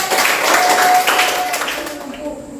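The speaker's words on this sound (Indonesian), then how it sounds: "Tepuk tangan dulu" A school class claps hands together during a teaching session, a short burst of clapping that tapers off, mixed with children's voices and a faint tone in the room.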